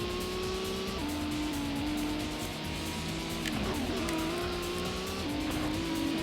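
A race car in the PS1 game Gran Turismo brakes hard, engine droning steadily as tires squeal and skid in drawn-out, pitch-shifting screeches, loud and close throughout.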